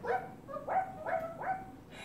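A voice imitates a dog with four short, rising bark-like yips in quick succession, part of a playful kids' yoga exercise, heard clearly and alone in a quiet room.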